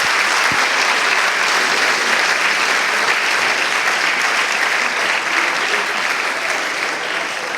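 A church congregation applauds in steady, dense, sustained clapping that fills the room evenly from start to finish, with no talking over it.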